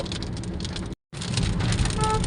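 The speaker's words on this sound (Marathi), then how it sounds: "पाऊस येतोय रस्त्यामध्ये म्हणजे वातावरण कधी काय चेंज होईल सांगताच येत नाही" Heavy raindrops drum densely on a moving car over a low road rumble. The sound cuts out briefly partway through.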